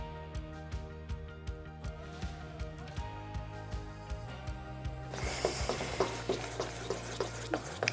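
A spoon stirring a Jesmonite resin mixture, with regular scraping strokes at an even rhythm over steady background music; the strokes become busier and brighter in the second half.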